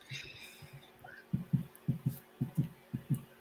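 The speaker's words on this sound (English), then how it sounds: "Are you making the heartbeat?" Steady heartbeat sound, heard as paired low thumps repeating about eight times in an even rhythm; fainter softer pulses and light background noise come before them.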